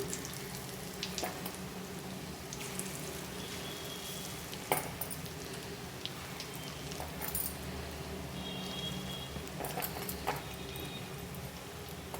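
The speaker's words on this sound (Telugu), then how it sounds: "ఇలా తిప్పుకుంటూ ఫ్రై చేసుకోవాలండి." Onion pakoda frying in hot oil as the fritters are turned, with a steady soft sizzle broken by light scraping and clicking taps from the turning.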